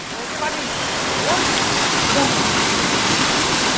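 The Dhodhavane waterfall in a jungle pours with a loud, steady roar of rushing, splashing water that fills the whole stretch without pause.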